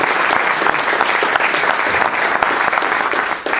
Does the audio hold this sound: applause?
yes